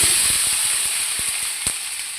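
Sliced pointed gourd and torn green chillies hiss steadily in a hot frying pan, with scattered sharp pops and crackles over the continuous sizzle, close and fairly loud.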